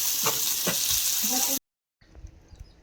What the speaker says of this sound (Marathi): तेल तर ऑलरेडी टाकलं आहे. आता लसूण पण टाकलं आहे.